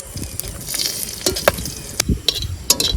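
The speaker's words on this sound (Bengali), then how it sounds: "যাই আলু চোখার জন্য এই শুকনো লঙ্কাটা ভেজে নেবো।" Dry red chilies fry in hot oil with a continuous sizzle, broken by several sharp clacks and scrapes as the pan is stirred, close and fairly loud with no talk.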